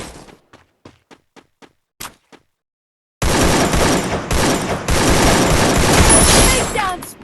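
Gunfire in the Free Fire video game, a loud sustained barrage of shots after a few faint ticks and a quiet gap, close and dense with no talk.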